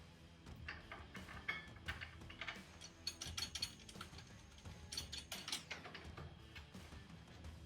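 Wing nut being tightened by hand on the legs of a Ryobi RTS12T table saw, a close, quiet series of irregular metallic ratcheting clicks and small scrapes with no talking.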